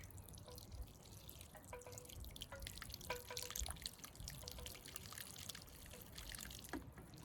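Water dripping and trickling while watering freshly transplanted tomato plants outdoors, a scatter of quiet irregular drips and small splashes over a soft background hiss.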